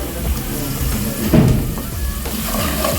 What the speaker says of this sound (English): So she puts the salt into the onions with the oil as it stir fries.